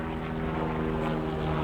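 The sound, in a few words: helicopter passing overhead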